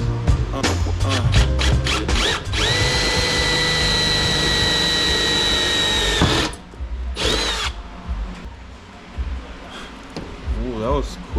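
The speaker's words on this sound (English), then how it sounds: "So I might have drilled it too big." A power drill whines loudly and steadily while boring a hole during an S13 turbo kit installation, stopping abruptly before short bursts resume; someone speaks between runs.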